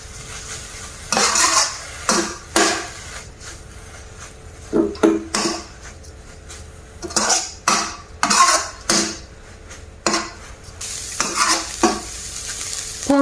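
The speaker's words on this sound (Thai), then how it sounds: "แล้วเราก็ผัดคั่วไปเรื่อยๆ จนเขาแห้งค่ะ" Red ants with salt are stir-roasted dry in a pan, with repeated scraping strokes of a utensil against the metal over a soft background sizzle, close and steady in irregular bursts, with no talking.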